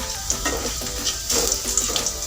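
Sliced onion frying in hot oil for a dal tempering (baghar), a steady close sizzle with bubbling crackles that swell and fade in soft bursts, no voices.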